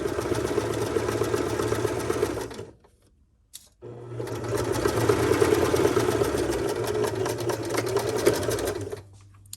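A sewing machine stitches a French seam on fabric, running steadily in a loud, close, whirring buzz, stopping briefly for about a second, then running again for several seconds.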